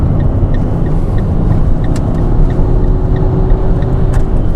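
Fiat Grande Punto turbo petrol engine pulling under acceleration, a steady loud low rumble of engine and road noise heard from inside the car, with no talk over it.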